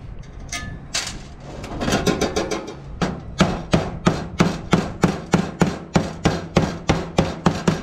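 A mallet beats a zinc gutter bracket flat, first a few scattered knocks, then a steady rapid series of sharp, close metallic-wooden taps, about two per second, with no talk.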